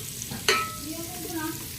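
Mung beans cooking in a pan get a quick stir, one sharp scrape followed by a low sizzle over a brief, fairly quiet moment.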